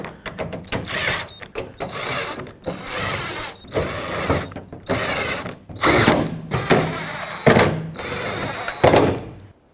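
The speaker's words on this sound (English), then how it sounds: "Now use your T30, tighten up all 8 bolts that hold this piece on." A power driver with a T30 bit runs down the bolts holding the tailgate panel on a 2008-2010 Ford F-250, giving loud repeated whirring bursts separated by brief gaps, close by with no talking.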